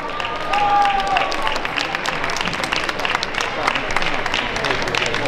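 An audience applauds the ballroom dance couples called to the floor for a Standard final at the IDSU European Cup in Minsk. The clapping is steady and moderately distant, and a voice is briefly heard at the start.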